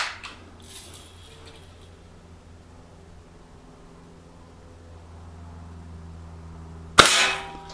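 A single sharp crack from a Crosman Marlin Cowboy BB rifle fired outdoors, coming abruptly near the end after several seconds of quiet background hum.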